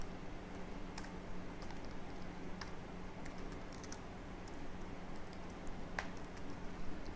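Quiet, irregular keystrokes on a computer keyboard click sparsely over a steady low background hum, with no one talking.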